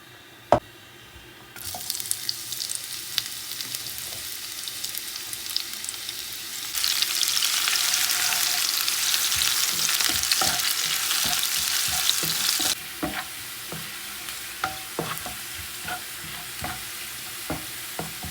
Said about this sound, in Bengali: এখানে তেল দিয়ে দিচ্ছি, আর এখানে দিয়ে দিচ্ছি হচ্ছে রাঁধুনি, আর দিয়ে দেবো হচ্ছে পেঁয়াজ রসুন